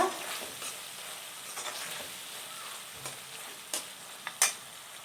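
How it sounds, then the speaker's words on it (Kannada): Baby corn frying in a pan with chilli powder and pepper powder gives a quiet, steady sizzle, with stirring scrapes and a few sharp clicks near the end. "ಮತ್ತು ಖಾರದ ಪುಡಿ, ಪೆಪ್ಪರ್ ಪೌಡರು ಇಷ್ಟು ಹಾಕ್ಕೊಂಡು ಫ್ರೈ ಮಾಡ್ಕೊಳ್ಳೋಣ 2 ನಿಮಿಷ."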